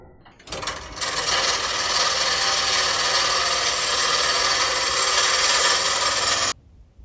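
A steady, loud scraping hiss of a turning tool cutting a chamfer on a wooden vase spinning on a lathe, lasting about six seconds before cutting off abruptly.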